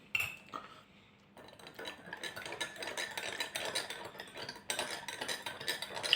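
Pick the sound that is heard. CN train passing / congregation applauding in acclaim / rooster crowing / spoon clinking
spoon clinking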